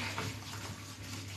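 Steady running water pours continuously while a dog named Max is being bathed and washed, a constant rushing wash at close range with no talk over it.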